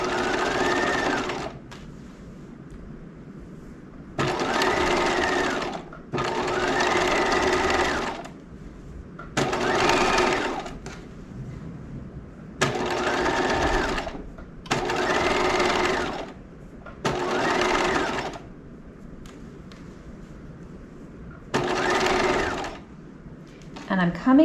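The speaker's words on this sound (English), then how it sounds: "what we're getting here is a really nice edge stitch along the seam line" Sewing machine running in repeated bursts of a few seconds each, edge stitching along a seam line on a lace-trimmed top, with pauses between runs; a voice talks in the gaps.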